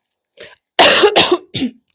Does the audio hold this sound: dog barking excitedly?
no